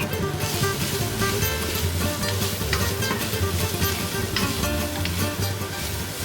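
Onion frying in four tablespoons of butter, a loud, close, steady sizzle that crackles continuously without pause.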